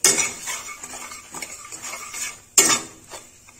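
Kachori filling spices with amchur powder and salt are being roasted in a pan. A spoon scrapes and clinks against the metal in sharp strokes, with a soft stirring rustle between them, close up and with no talking.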